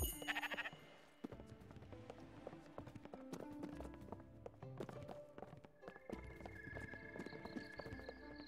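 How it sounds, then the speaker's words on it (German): Sheep bleating in the video game Spiritfarer, a few short bleats mixed with clip-clopping hooves and soft game music, moderately quiet, with no one talking. "Oh, was für ein nettes Schaf."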